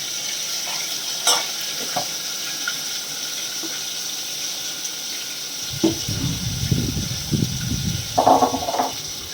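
Garlic chutney hits hot oil in a tempering and sizzles steadily, then a spoon stirs and scrapes through the pan in bursts near the end, close and fairly loud, with no talk.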